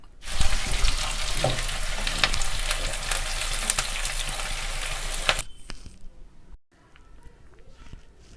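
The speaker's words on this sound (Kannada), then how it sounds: "2 ಸ್ಮಾಲ್ ಈರುಳ್ಳಿ ಕಟ್ ಮಾಡಿ ಅದನ್ನು ಕೂಡ ಚೆನ್ನಾಗಿ ಫ್ರೈ ಮಾಡ್ಕೊತಾ ಇದ್ದೀನಿ" Two small chopped onions fry loudly in a pan in a home kitchen, with a dense close sizzle and occasional stirring clatter. The sizzle cuts off after about five seconds, leaving quieter room sounds.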